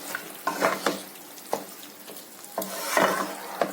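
A spoon stirs green chilli paste through chicken in a hot pan, a few sharp scraping strokes over a low frying sizzle, close by and without speech.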